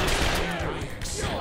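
Shotgun blasts in the video game The Darkness 2, loud, rapid reports running close together through a brief moment of combat, with a voice speaking over them.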